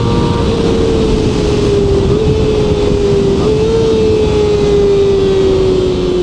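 A QJMOTOR SRK250RD motorcycle exhaust holds a loud, steady drone that rises and falls slightly in pitch, close up and continuous without talk.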